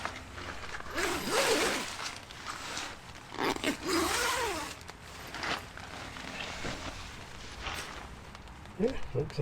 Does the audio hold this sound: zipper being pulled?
yes